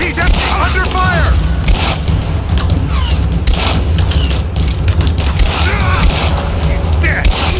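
Gunfire in the video game Rise of the Tomb Raider, with dense bursts of shots and booming blasts running throughout under a steady loud din of battle, and voices calling out in the fight.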